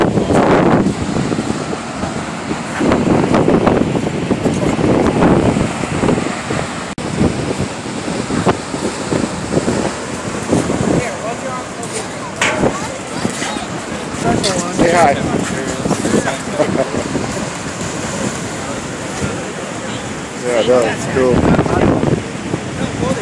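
Choppy storm surf slaps and sprays against the underside of an ocean pier, roaring waves surging in irregular bursts under heavy wind buffeting, with someone talking intermittently over the wash.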